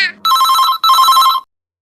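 A telephone rings with an office call, two loud, bright bursts of ringing separated by a brief gap, then silence.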